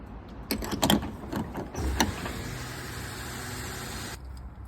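A steady low car engine rumble idles throughout in a garage, with a few clicks and mechanical knocks near the start before it settles into an even hum.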